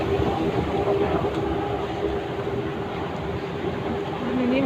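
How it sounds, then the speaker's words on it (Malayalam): A Dubai Metro train arriving at a platform, a steady close rumble and rolling roar with a faint rising whine near the end, and a voice heard faintly underneath. "The train to Center Point will arrive"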